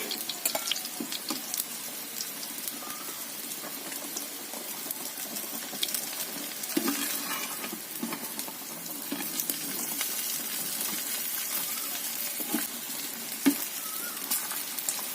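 Fritters and okra frying in oil in a home kitchen, a steady broadband sizzle with faint stirring clinks and a few sharper pops throughout, close by and without talk.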